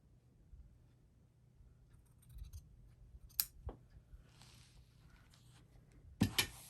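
Scissors snip trimming material on a DIY gnome made from an 18-inch muslin doll, with a few faint cuts followed by two sharper, distinct snips near the end in a quiet room.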